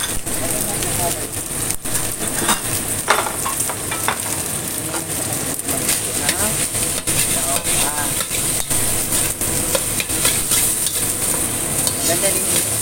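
Pork chao fan with onion and egg stir-fries in a pan, a loud continuous sizzle packed with rapid scraping and tossing clatter. A voice is faintly present under the cooking noise throughout.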